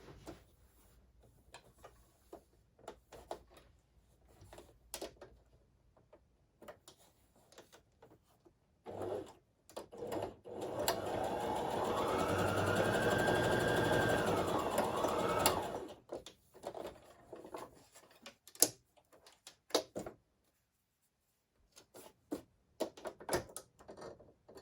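Sewing machine running a steady stitching burst on a fabric collage for about seven seconds, bracketed by scattered small handling clicks and rustles in a quiet room.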